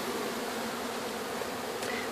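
A honeybee swarm from a brand-new colony pulled out during a hive cut-out in Lake Wales, Florida, buzzing in a steady, dense drone that fills the whole stretch, close and continuous, with no voices.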